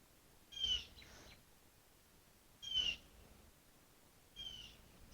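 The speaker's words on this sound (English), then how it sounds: "Can you hear the birds" Three separate bird calls ring out in a streamer's room, each a short high chirping burst spaced about two seconds apart, faint against a quiet background.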